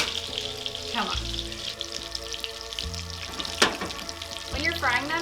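Milanese cutlets sizzle and crackle steadily as they fry in butter in a pan, a close, continuous spatter with a few sharper pops and faint background music.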